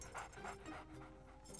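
A dog in the video game Sea of Thieves whimpers and pants softly in short breathy bursts, faint and close, with no talk.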